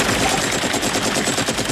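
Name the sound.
machine gun fire from helicopter in Rambo film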